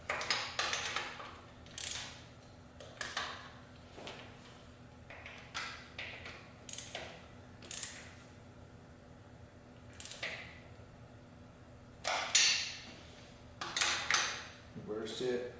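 Ratchet tightening bolts during a cam install on an engine, quick clicking bursts repeated at irregular intervals, fairly quiet and close with some speech between.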